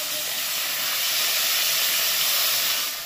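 Morola fish frying lightly in hot oil in a kadai, giving a steady, loud hiss of sizzling that holds evenly through the whole stretch with no talk over it.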